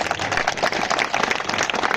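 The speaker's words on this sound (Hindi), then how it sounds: "बजाओ यहां पर जोर से तालियां" An audience applauds with dense, continuous clapping at moderate volume that runs the whole short stretch, no voices standing out.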